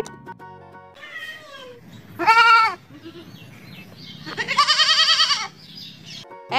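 Two goat bleats, each about a second long, in a children's alphabet song with a cartoon goat: the first is loud and wavering, the second a longer, tremulous cry, both set over soft background music.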